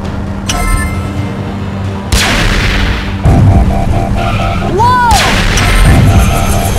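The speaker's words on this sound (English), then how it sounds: "Watch out! They're shooting at us!" Blaster shots fired at the Rescue Bots in a Transformers cartoon, loud zapping bursts over a roaring vehicle engine and whooshing effects, with swooping energy blasts near the end.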